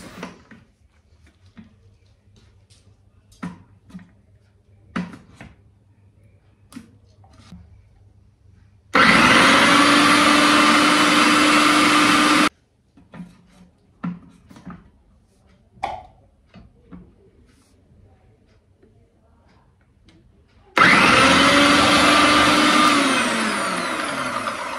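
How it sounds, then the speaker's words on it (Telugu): A Croma mixer grinder slices cucumber in two loud, steady whirring bursts of about four seconds each. Quiet handling clicks and taps are heard between the runs. "కీరకాయని నేను ఇలా పెట్టి దాన్ని మిక్సీ అయితే పట్టాను"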